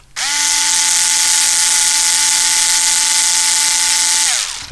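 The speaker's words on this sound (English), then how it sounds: "I'm using my Bosch IXO, by the way, to screw them in because they're quite long screws" A Bosch IXO cordless screwdriver drives long, heavily threaded screws into a Tamiya TT01 E model car chassis, giving one steady, close whirring motor whine for about four seconds that stops abruptly.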